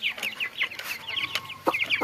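Chickens cluck in quick, overlapping bursts at a poultry farm, close by and continuous, with no talk over them.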